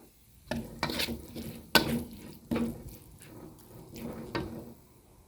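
Pork panang curry with Thai eggplant being stir-fried in a pan: a spatula scrapes and clatters in uneven strokes over a soft sizzle, with several sharp metallic knocks close by.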